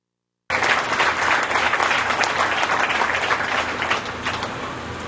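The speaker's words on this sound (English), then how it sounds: "I think everyone deserves a big round of applause" An audience at a dairy cow show breaks into loud, sustained applause, dense clapping starting abruptly and holding steady for several seconds before easing slightly.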